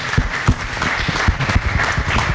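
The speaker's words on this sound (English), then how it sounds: "Please give her a big round of applause." Applause from an audience at a university event, a dense wash of clapping with sharp individual claps standing out, steady and moderately loud for a couple of seconds.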